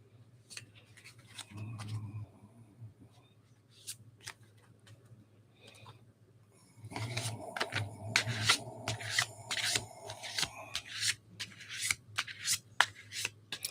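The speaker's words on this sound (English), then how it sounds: "These didn't shuffle very well." Tarot cards being shuffled by hand: soft scattered rustles at first, then a denser run of riffling and flicking in the second half, close and quiet, with little or no talking.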